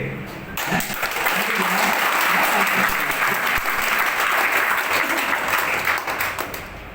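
Sustained, loud applause from a big crowd at a company CEO's speech, rising after a brief softer start and holding as a dense wash of clapping to the end.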